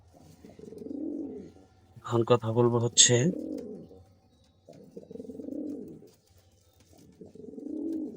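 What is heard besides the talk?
male pigeon cooing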